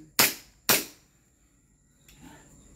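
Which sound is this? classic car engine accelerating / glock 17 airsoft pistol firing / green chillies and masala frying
glock 17 airsoft pistol firing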